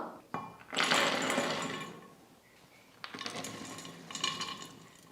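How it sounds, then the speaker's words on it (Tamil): Cashews grinding in a mixer grinder jar, two loud bursts of harsh whirring with a pause between, without any voices. "மிக்சி ஜாரில் போட்டு முந்திரி இந்த மாதிரி நைஸாக அரைச்சி எடுத்துக்கிட்டேன்"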